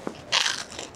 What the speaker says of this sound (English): outside crust, pretty crunchy